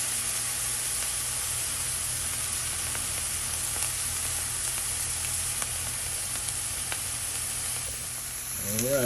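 Lion's mane mushroom pieces sizzle steadily in a frying pan as their edges brown, a close, continuous crackling fry that holds at an even level throughout.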